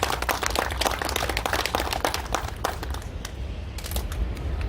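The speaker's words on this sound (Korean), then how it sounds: "다시 한번 큰 박수 부탁드립니다." Crowd applause at a founding ceremony and memorial service in Tagpol Park, Seoul, a dense, continuous patter of many hands clapping outdoors at steady loudness throughout.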